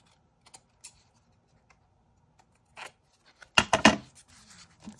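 Scissors cut paper for a junk journal, with a few sparse snips and rustles up close, then a louder burst of crisp cutting and paper crinkling.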